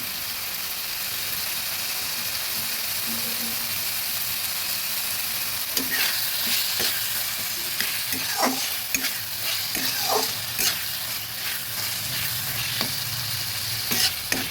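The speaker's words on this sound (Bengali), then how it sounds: "ভালোভাবে নেড়ে ঢেকে দিই।" Katla fish curry with chopped tomato and salt sizzles loudly in a pan, a constant hissing fry joined midway by repeated scrapes and knocks of a spatula stirring it, close and with no voices.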